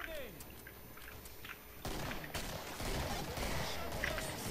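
Rapid gunfire and explosions from shooting zombies in the video game Killing Floor, a dense continuous barrage that gets louder and busier midway, with bursts layered over each other.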